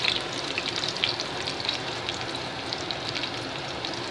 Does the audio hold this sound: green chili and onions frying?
yes